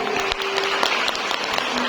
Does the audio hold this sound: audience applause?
yes